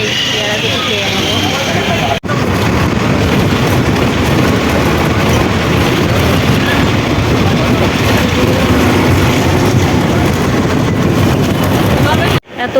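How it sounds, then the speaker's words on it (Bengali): A train pulls out of a station in Kolkata with a loud, continuous rumbling roar, while a voice talks over the noise close by. "এত কষ্ট করে এসেও ট্রেনটা পেলাম না 1 মিনিটের জন্য"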